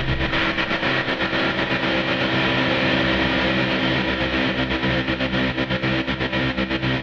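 A dense, distorted guitar pad sustains steadily, chopped into rapid rhythmic pulses by a gate, loud and continuous with no voices.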